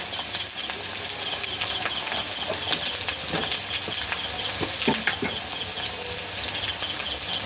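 Spices crackle and sizzle in hot oil with koi fish, salt, chili powder and turmeric, a steady close fry with scattered pops and occasional stirring scrapes, no voices.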